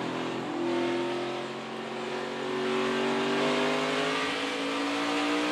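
NASCAR Cup Series stock cars race in the Toyota Owners 400, a steady engine drone with rising pitch that swells and eases as the pack runs, moderately distant and continuous, with no voices.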